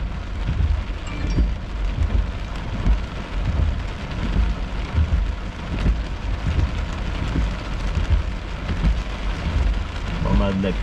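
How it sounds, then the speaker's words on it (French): Heavy rain pours steadily through a thunderstorm in Saint-Sauveur, a dense, continuous roar of drops with low rumbling underneath, loud and unbroken throughout with no voices. "Pas mal de la pluie forte."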